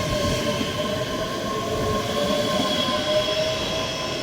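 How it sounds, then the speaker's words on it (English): A ScotRail service from Dunblane to Edinburgh Waverley departs Edinburgh Gateway station with a loud, continuous rumble, faint wheel squeal and steady rail noise, heard close by without any talking. "Departing out now is the 1446 ScotRail service from Dunblane to Edinburgh Waverley."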